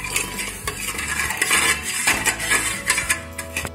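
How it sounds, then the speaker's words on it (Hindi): A utensil scrapes and clinks steadily against the inside of a metal pot in quick, repeated strokes, stirring sugar and water, close and fairly loud. "चीनी को चला देंगे।"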